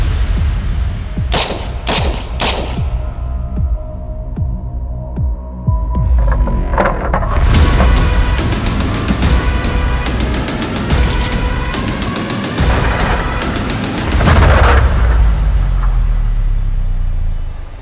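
Bursts of gunfire from a Swiss STG-57 rifle, several sharp shots early then dense rapid volleys, loud and close, ringing out over steady outdoor background noise.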